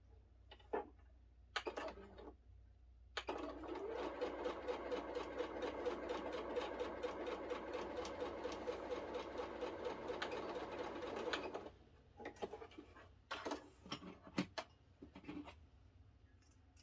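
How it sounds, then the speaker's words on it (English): A sewing machine stitches a fabric strip from the inside corner to the outside corner in one steady eight-second run, with short bursts and clicks before and after, quiet and close. "we're just going to sew from the inside corner down to the outside corner."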